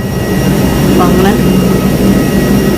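A jet airliner's engines roar steadily after landing at Kochi airport, a loud continuous low rumble and whine filling the cabin, with a brief voice-like sweep partway through.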